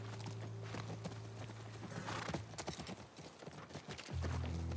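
Steady clip-clop of horse hooves walking at an even rhythm in The Last of Us Part 1 on PS5, fairly close, with a low droning hum underneath and no talking.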